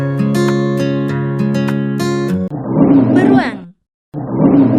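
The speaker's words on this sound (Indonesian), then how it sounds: "Beruang." A bear roars loudly and close, once and then again after a short silence, following a few seconds of bright electronic tones.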